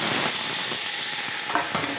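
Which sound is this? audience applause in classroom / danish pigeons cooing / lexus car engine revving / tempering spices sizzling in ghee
tempering spices sizzling in ghee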